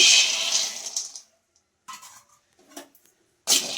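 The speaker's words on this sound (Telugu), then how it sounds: "పల్లీలు వేసేసుకుంటున్నాను" Raw peanuts being tipped into a pan on a stove at low heat, a bright rattling pour of nuts hitting metal, then a few short scattered clatters and a final brief rush, close and clear with no talk.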